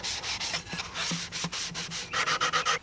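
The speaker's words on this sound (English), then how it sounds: "You can use a rough sanding sponge and just give them a scrub." Rough rhythmic rubbing of a rough sanding sponge on an old wooden chair, quick back-and-forth strokes growing faster and brighter toward the end.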